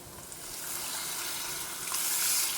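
Tamarind water poured into a hot pan of sautéed ingredients for chinch kadi, a steady broad watery hiss and sizzle lasting the whole moment and swelling louder near the end.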